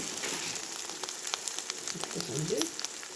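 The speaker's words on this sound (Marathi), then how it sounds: "बघा कसं तेल सुटायला लागलं आहे आपला मसाला चांगला भाजला आहे" Masala for Kolhapuri misal fries in oil in a pan, a close continuous sizzle with small crackles and stirring scrapes, no talk over it.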